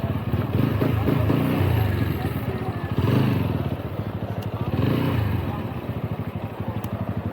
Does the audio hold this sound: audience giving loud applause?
no